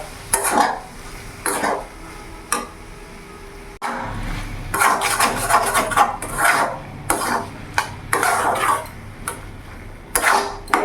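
Spoon or spatula stirring mustard and coconut paste into kochu loti (taro stolon) curry in a pan, with repeated scraping and clacking strokes in an irregular rhythm, fairly close and alone without talk.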